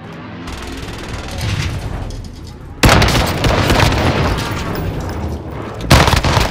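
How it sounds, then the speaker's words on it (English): Airstrike explosions in Call of Duty: Modern Warfare, a continuous roar of booms and rumbling blasts with sudden louder impacts, mixed with gunfire, heavy and close. "Allied precision airstrike incoming"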